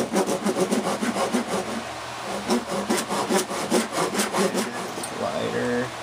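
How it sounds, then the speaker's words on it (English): A dovetail saw cuts through wood for a walking cane in steady, rapid back-and-forth strokes, close and loud, with a brief pause midway before the rasping resumes. "I've got my dovetail saw here, one of them."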